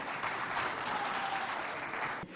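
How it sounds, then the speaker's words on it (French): Applause from a school audience at a student competition, a dense, even wash of clapping that stays steady and fairly loud before cutting off abruptly near the end. "Merci de vous applaudir bien fort,"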